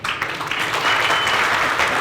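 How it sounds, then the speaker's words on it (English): Audience applause at the grand opening of a village center for healthy living, a dense burst of clapping from a crowd, loud and steady for the whole two seconds with no voices above it. "Appreciate the applause."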